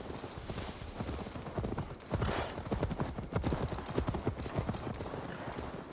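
In Assassin's Creed Valhalla, a horse's hooves clip-clop in a steady rhythm, close and moderately loud, with a faint rumble of ambience underneath.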